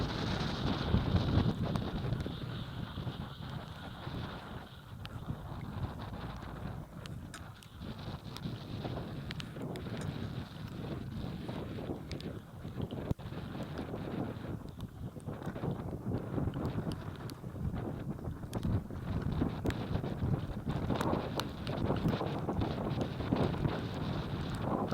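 Storm wind roars across an Achilles 24 sailboat out on the water, a steady, fairly quiet rush with buffeting gusts against the microphone, while rigging and hull noise mix in underneath and no one speaks.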